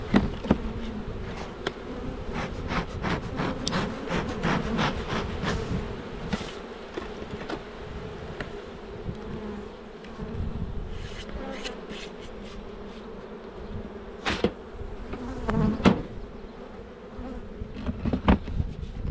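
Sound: honeybees buzzing at hive

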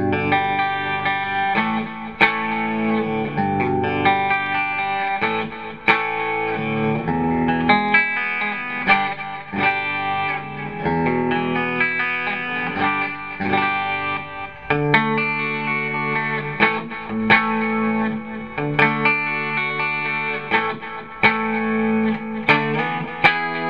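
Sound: electric guitar through distortion pedal

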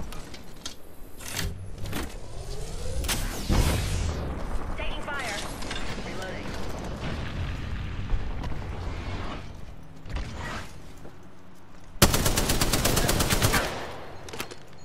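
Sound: gunfire in Apex Legends video game

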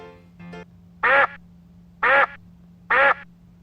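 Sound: duck quacking

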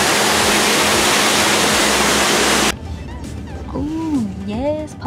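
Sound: waterfall at Disney's Polynesian resort

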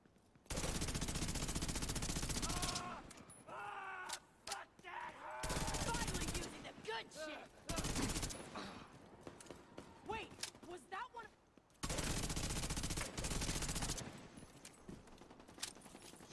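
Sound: machine gun fire in the video game The Division 2

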